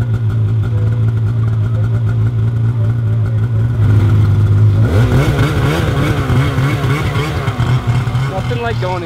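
A mini snow bike's small engine idles with a steady buzz, then revs up and down in rising, wavering pulses from close by, loud throughout.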